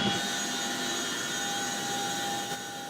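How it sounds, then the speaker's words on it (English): A Canadian Chinook military helicopter flies alongside two British helicopters near a village in Afghanistan. Its rotor and turbine make a steady, fairly distant whine and whoosh with a sustained high tone and no talking. "The Canadian Chinook, along with two British helicopters, swooped down just north of the village of Musha"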